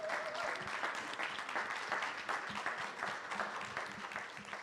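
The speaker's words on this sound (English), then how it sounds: "if we can give them a round of applause" A conference audience gives a round of applause to an educators' panel, a steady, full clapping from many hands that holds at an even level throughout.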